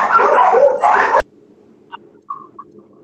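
Several dogs barking at a house door, a loud, dense burst of barks that cuts off abruptly, followed by a few faint yips and whimpers in near silence.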